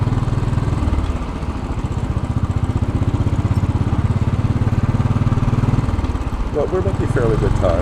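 A Royal Enfield Bullet 500 motorcycle thumps steadily through congested city traffic on Fifth Avenue in New York City, its close, loud single-cylinder pulse continuous throughout, with a rider talking over it and a brief shift in tone near the end.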